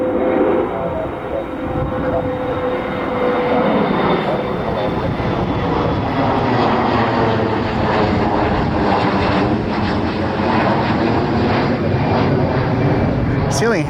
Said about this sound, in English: These guys must have got too close, and they are going around.